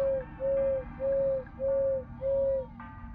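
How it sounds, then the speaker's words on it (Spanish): Bird in the Crow Country video game calling in five evenly spaced, clear cooing pips, each about half a second long, followed by a brief chime-like tone at the end; no voices. "¿Le pego un tiro al pájaro este? Siempre pía cinco veces."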